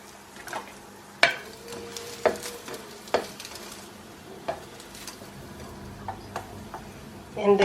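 Bread slices for cinnamon toast fry in ordinary cooking oil with a quiet, steady sizzle, punctuated by sharp ticks and clinks of a utensil against the pan at irregular intervals.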